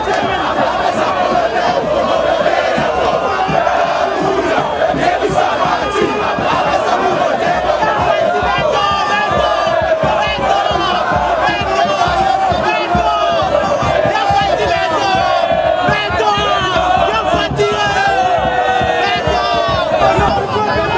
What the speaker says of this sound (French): sous une salve d'applaudissements, des chansons et des cris de joie